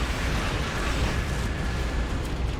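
Explosions in the space combat game Star Trek Online form a dense, loud, continuous rumbling roar with heavy low-end boom, sustained throughout without pause.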